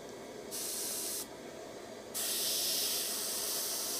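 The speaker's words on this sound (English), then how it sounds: "If you were holding a miniature like this and then spraying, you could put minimal paint down on that miniature" A paint airbrush sprays in steady hissing bursts, one short and then a louder, longer stream, close and alone.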